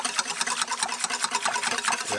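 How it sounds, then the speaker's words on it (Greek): Dense, steady whirring and slapping of an electric hand mixer beating a yogurt mixture with strawberry and vanilla, loud and continuous throughout. "Μπορείτε να το χτυπήσετε στο μίξερ."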